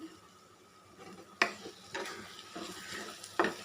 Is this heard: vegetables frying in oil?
yes